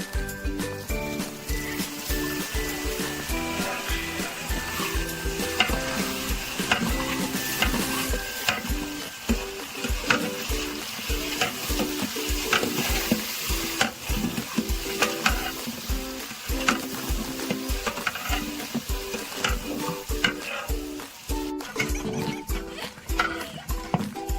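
Chopped onions fry in a pan for vaghareli khichdi with a continuous loud sizzle, while a spoon stirs and scrapes in repeated strokes close by.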